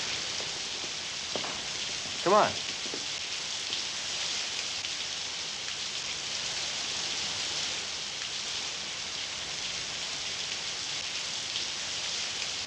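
Steady rain falls at night outside a house, a constant hiss of drops on surfaces; a brief spoken word cuts in near the start, then the downpour continues alone.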